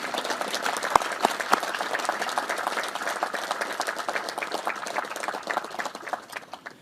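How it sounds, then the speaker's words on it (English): Audience applause at an Army change of command ceremony for an artillery command, crisp individual claps forming a steady, moderately loud ovation that tapers off toward the end. "How about a round of applause for Steve Maranian?"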